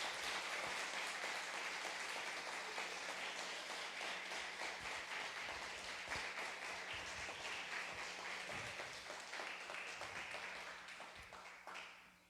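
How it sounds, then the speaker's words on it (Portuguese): A church congregation applauds during a communion service, sustained dense clapping from many hands filling the room, steady for most of the stretch before gradually fading at the end. "Você pode aplaudir ao Senhor?"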